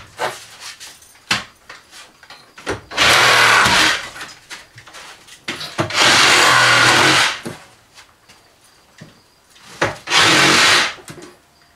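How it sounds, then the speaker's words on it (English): Three loud bursts of a reciprocating saw cutting through wooden bench legs, each lasting about a second or two, separated by quieter knocks and handling noises. "out comes the recip saw"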